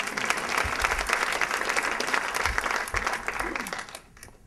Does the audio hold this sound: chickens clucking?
no